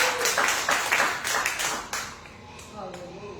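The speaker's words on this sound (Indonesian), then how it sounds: "Berikan tepuk tangan yang paling meriah bagi Allah kita." Congregation at a church revival night clapping together in a dense burst for about two seconds, then fading into lighter scattered claps, with voices audible underneath.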